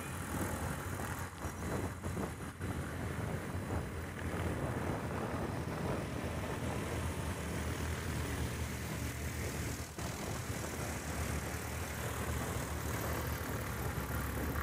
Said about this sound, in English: Brian Steck now taxiing by the booth.